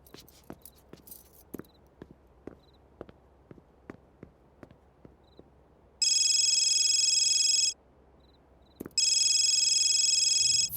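A phone rings in two long electronic bursts separated by a short pause, preceded by a series of light, evenly spaced ticks.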